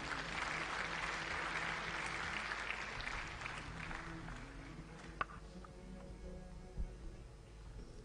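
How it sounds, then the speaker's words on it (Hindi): Applause from an audience at a Nirankari religious gathering, a steady wash of clapping lasting the whole stretch, moderately loud and fairly even, with a faint voice or two surfacing briefly near the end. "एक बार जोरदार तालियां"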